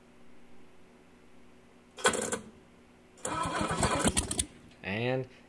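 A rebuilt Oldsmobile 350 engine hanging from a tractor bucket cranks on its first test fire, with two short bursts of starter grinding followed by a brief rising catch, over quiet background hum.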